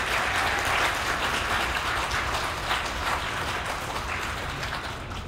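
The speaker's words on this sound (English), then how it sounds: "Let's please give all our seniors and the parents a big round of applause for their efforts." A crowd gives a big round of applause for graduating seniors and their parents at a school senior recognition program, a dense, steady clapping that holds at full strength for several seconds and eases slightly at the end.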